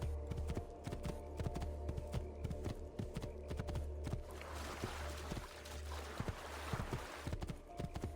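Steady clip-clop of a horse's hooves in Assassin's Creed II, with rhythmic, close hoof strikes continuing over a low background hum, briefly joined by a rushing, splashy texture midway.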